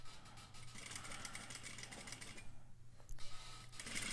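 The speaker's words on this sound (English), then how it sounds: "I'm going to get ready to backstitch up here" A sewing machine runs steadily while stitching a curved seam on a facing, its fast mechanical whir continuing for most of the clip before a brief pause and restart near the end.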